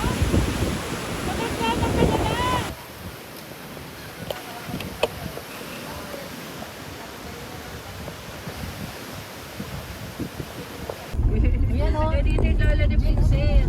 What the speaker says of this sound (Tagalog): ang alon talaga naman lalamunin ka talaga niyan